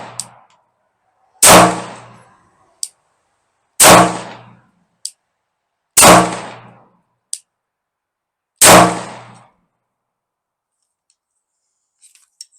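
A Gen 2 Glock pistol fed from a Mec-Gar metal magazine fires four loud, evenly spaced shots in slow succession, each with a short ringing decay, with faint clicks between them.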